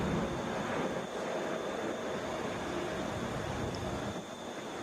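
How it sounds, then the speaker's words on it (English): A Delta Boeing 717 airliner at Atlanta airport produces a steady, broad jet roar with a faint high whine, constant and moderately distant, with no talking. "This is Delta 752 going to Charlotte, Boeing 717."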